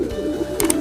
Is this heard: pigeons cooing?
yes